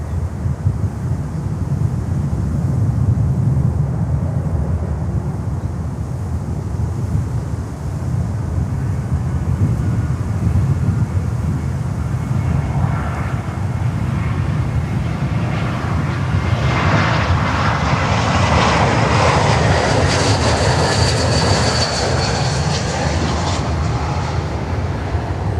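An American Airlines jet landing at Miami airport, a steady loud engine roar building into a broad rushing whine over the second half, with wind buffeting throughout.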